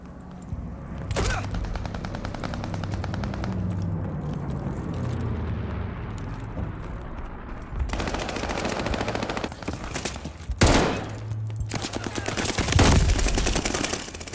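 Call of Duty Vanguard multiplayer gunfire, long bursts of rapid automatic shots with sharp single cracks and an explosion near the end, loud and continuous, with occasional game voice lines in the background.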